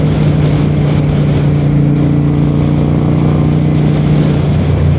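A 1992 Honda Shadow 400 chopper motorcycle engine thrums steadily while riding, a loud, close, continuous low drone with a strong even hum and faint wind rush on top, no voices.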